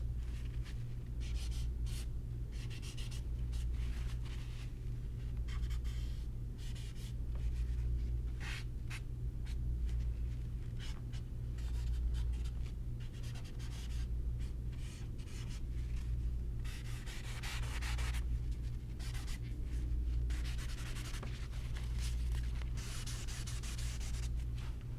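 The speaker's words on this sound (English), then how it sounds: "Now another great tool is your paper towel. I'm going to actually wipe back a little bit away." Paper towel rubs and wipes across a portrait drawing in soft, continuous scrubbing strokes, close and quiet over a steady low hum, with no talking.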